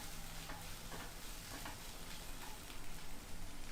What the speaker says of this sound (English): So we'll fry the onions until they are little pink and light